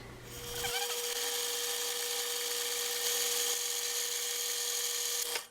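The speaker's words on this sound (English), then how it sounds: "once it gets full, it just pushes that back, and so you know your bobbin is full" A sewing machine winds a bobbin with a steady high electric whir that starts after a short click and runs evenly, then stops at the end.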